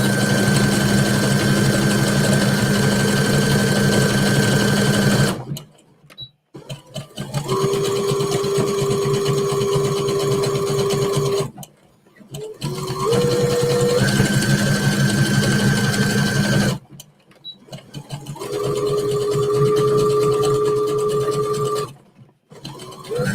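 Sewing machine stitching through denim jeans with a bobbin problem, running in loud sustained bursts of rapid whirring separated by brief pauses, the pitch shifting between runs.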